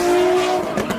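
A Nissan 350Z with an aftermarket exhaust gives a loud, raspy engine rev with a sharp tonal drone, close up and brief.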